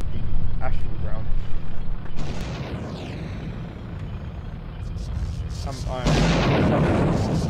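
Missile launches and explosions in the sci-fi mech strategy game Parkan: Iron Strategy: booming blasts at the start and again near the end, with a rumbling wash in between, mixed under game voice lines and someone talking.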